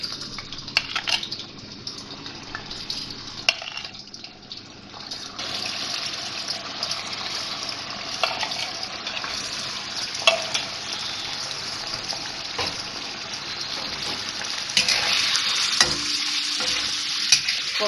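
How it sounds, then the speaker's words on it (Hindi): Beef frying in about half a cup of oil in a karahi, with a loud continuous close-up sizzle and intermittent stirring and scraping, rising toward the end, with no voices. "तो कढ़ाई में मैंने ऑयल डाला हुआ है, हाफ कप ऑयल लिया था मैंने, और अब गोश्त डाल रही हूँ इसमें मैं।"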